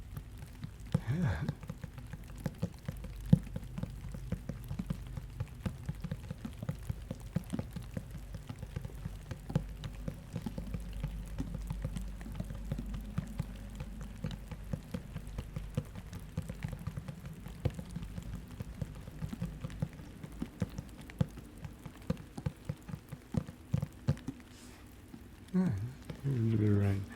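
Fingertips tap steadily on a book to mimic rainfall, a soft continuous patter of light irregular taps, close and quiet; a voice speaks over parts of it.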